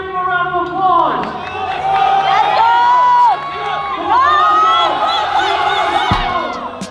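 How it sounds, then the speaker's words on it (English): Crowd cheering and whooping at the 2021 Raw Nationals powerlifting meet for the 83kg gold medal winner, a loud sustained roar with shouted voices rising over it. "Come on, give him a round of applause."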